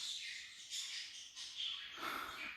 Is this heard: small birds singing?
yes